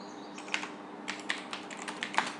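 Close, steady keystrokes on a computer keyboard while entering data in Tally accounting software, with light irregular clicks over a faint background hum and no talking.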